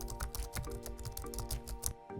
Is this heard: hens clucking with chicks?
no